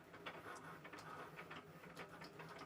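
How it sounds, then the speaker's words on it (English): A Cricut cutting machine works through a magnet sheet, giving a steady faint mechanical whir with soft ticking and brief higher motor whines as the blade carriage moves. "once your machine is happy that it knows where it needs to cut on the sheet, it's going to start doing the cut"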